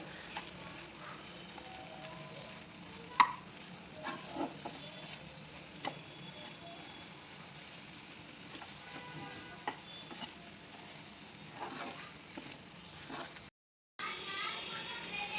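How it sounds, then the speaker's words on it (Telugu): Ivy gourds stuffed with gram flour fry in a pan with a soft, low crackling sizzle and scattered utensil clicks, faint background voices, and a brief dropout near the end. "బాగా వేగనివ్వాలి ఒక ఐదు పది నిమిషాలు వేయించుకుంటే సరిపోతుంది"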